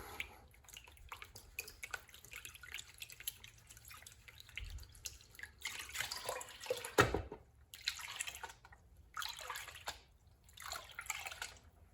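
Water splashes and pours in several short bursts over prospecting paydirt, with quiet dripping in the pauses between them, close by.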